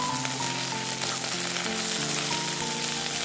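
Vegetables sizzle steadily in a pan with the lid lifted while they are stirred, a dense close frying crackle that runs without a break and with no speech.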